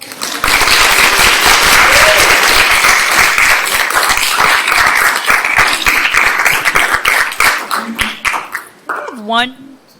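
A summit crowd applauds student presenters at an arts pitch event, a sustained wash of clapping that tapers off while a voice rises over the fading applause near the end.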